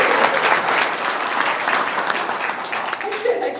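Audience applause fills the room in a dense, steady wash of clapping at a Bean Day 2014 show, fairly loud and close, fading slightly toward the end.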